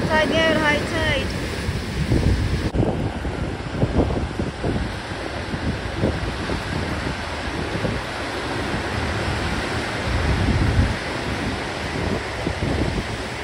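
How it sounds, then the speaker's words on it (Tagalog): Sea waves at high tide wash against the shore with a constant rushing roar, heavily mixed with wind buffeting the microphone; a voice is faintly heard early on. "Gilid na dagat. High tide."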